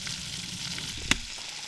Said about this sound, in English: Cooking away on the stove.